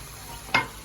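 Tomato sauce stirred into rotini pasta in a pot, heard as one short, fairly close scraping swish against a quiet background.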